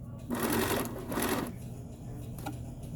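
Domestic sewing machine stitching a fabric cuff, running in two close, steady whirring bursts with a brief pause between, then dropping to a low background hum.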